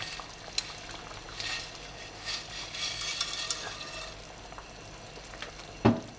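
Halved noodles are stirred into a pot of boiling ash reshteh soup, with soft bubbling and a low simmer beneath occasional light utensil scrapes and one louder clink near the end.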